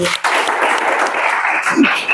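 Students in a police-exam coaching class clap loudly, a brief dense patter of applause with a voice cutting in near the end.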